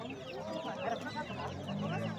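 Chickens cluck in a busy Uzbek poultry market, steady fowl calls with a rooster among them, close and continuous over a dense crowd murmur with people talking.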